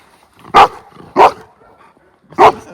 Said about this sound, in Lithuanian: šuo turi motyvaciją, bet kas labai blogai, įsijungia lojimas